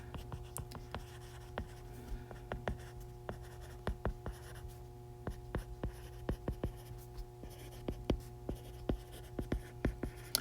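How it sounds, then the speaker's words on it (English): Pen writing notes during a cardiac cycle lecture, a series of short scratchy strokes in irregular bursts, close and fairly quiet over a steady low electrical hum. "So if we're thinking about the ventricles in mid to late diastole, so I'm going to write that."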